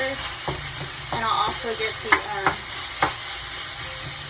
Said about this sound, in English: Let me just brown this up real quick and I'll get back to the poppers.